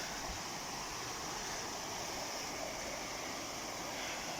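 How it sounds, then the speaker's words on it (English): A river flowing beside a campsite in Snowdonia, a steady, even rushing of water that holds constant throughout, with no voices or other sounds over it. "we'd have to listen to the river all night"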